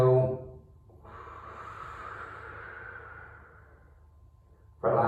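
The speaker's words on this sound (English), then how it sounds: "Deep inhale." A long, steady, deep inhale at a slow yoga cool-down pace, taken alone and close, with brief talk just before and after it.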